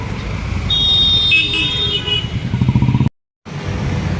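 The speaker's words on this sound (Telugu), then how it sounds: "ట్రాఫిక్ చాలా గట్టిగానే ఉంటుంది." Heavy road traffic in Vijayawada rumbles nearby as a car horn sounds in sustained blasts, followed by engine noise and a short sudden dropout.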